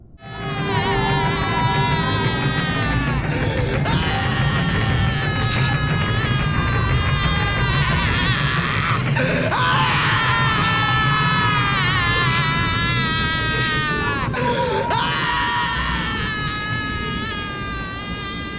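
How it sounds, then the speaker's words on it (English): Skeleton in the video game Mystery of the Druids screaming in agony on a loop, a loud, shrill, wailing cry that repeats with brief breaks over a steady background. "so he is screaming in agony"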